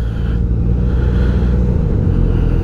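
Engine of a Polaris Slingshot three-wheeled roadster at Daytona Bike Week, a loud steady low rumble heard close up without any talking.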